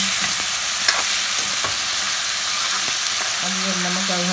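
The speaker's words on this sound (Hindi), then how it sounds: "आलू को थोड़ी देर के लिए भून देंगे, उसके बाद फिर टमाटर डाल देंगे।" Potatoes fry in a pan for aloo palak, a continuous close sizzle with occasional stirring scrapes and clicks, no talking.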